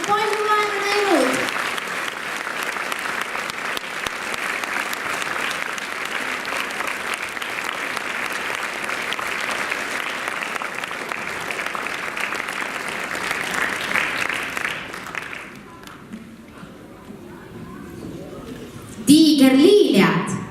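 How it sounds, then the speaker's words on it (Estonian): An audience at a children's dance club performance gives sustained, loud applause for the dance instructors, steady for about fifteen seconds before dying away, then a voice and a brief burst of music follow. "Teeme suure aplausi, nad on palju vaeva näinud."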